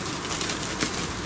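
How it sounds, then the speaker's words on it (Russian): Birds, many of them crows, at a cemetery at night on a cold evening, a dense, steady wash of wing flaps and soft calls over a loud, noisy background with no talking. "Это птицы, ребят."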